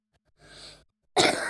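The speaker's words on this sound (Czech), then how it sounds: "Pardon, já trošku kašlu." Two separate coughs, one short and muffled, then a louder, harsher one after a pause, in an otherwise quiet space.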